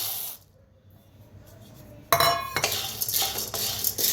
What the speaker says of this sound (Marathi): त्याच्यातच आता ही डाळगा भाजून घेऊया